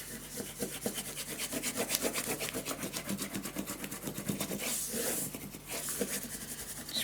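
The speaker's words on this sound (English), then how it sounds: "Burnish this down." Paper craft pages of a handmade pop-up mini album burnished down over tape: rapid, close, continuous rubbing strokes in an even back-and-forth rhythm, steady and fairly quiet throughout with no speech.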